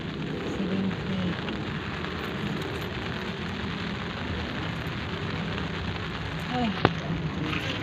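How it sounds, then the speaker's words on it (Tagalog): Rain falling steadily, a continuous hiss of drops on surfaces with faint background activity and a brief sharp tap near the end. "Ay, umuulan na naman."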